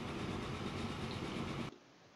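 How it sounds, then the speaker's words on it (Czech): A train running in the video game Transport Fever, a loud steady rumbling roll with a faint rhythmic clatter that cuts off abruptly near the end. "Co to je za vlak?"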